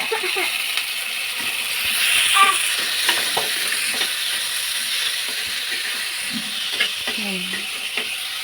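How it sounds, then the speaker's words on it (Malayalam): Onions, tomato, green chilli and curry leaves sizzle steadily in a hot pan for a Kerala fish curry, a constant frying hiss with occasional spoon scrapes and clinks, close and loud throughout. "ഇനി നന്നായി വഴറ്റി കൊടുക്കാം"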